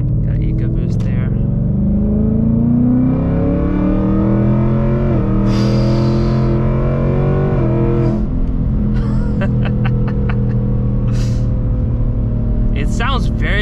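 A 2024 Ford Mustang GT V8 pulls hard through third gear. Its engine note rises steadily, drops at a shift, then climbs again, loud and close, with brief voices over it.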